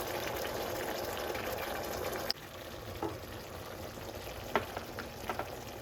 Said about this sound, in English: So now we're going to let it simmer a little bit together with the sauce.